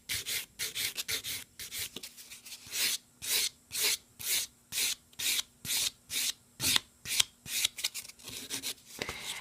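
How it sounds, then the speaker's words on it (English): Quick rhythmic rasping strokes of a sponge nail buffer rubbed across a fingernail during a nail art manicure, about fifteen close, soft scrubbing passes in a steady back-and-forth pattern with no talking. "Just gonna give this a quick little buff to make sure it's nice and smooth."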